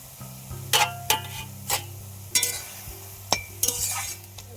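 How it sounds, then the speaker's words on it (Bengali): Red amaranth greens are stirred in a pan with sugar and nuts, a spoon scraping and clinking against the metal in several separate strokes over a low, steady sizzle. "নাড়তে থাকবো"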